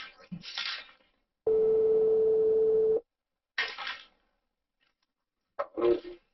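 A single telephone line tone sounds for about a second and a half during a call, steady and clear, between short bursts of nearby handling and voice-like noises.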